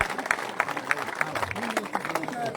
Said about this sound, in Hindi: जरगर का जोरदार तालियों से उनका स्वागत करें